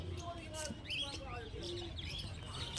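Budgerigars and other caged birds chirping at a busy bird market, faint rapid twitters and tweets beneath steady crowd murmur and a person talking.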